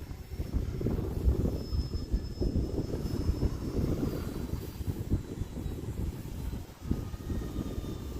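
An E-flite Turbo Timber Evolution RC plane flying upside down in wind, a steady broadband engine and propeller drone that stays fairly constant, with wind noise around it and no voices.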